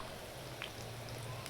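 Pakoras made with spinach, green chilli and fenugreek frying in oil give a faint, steady, even sizzle with tiny crackles, heard alone at low level.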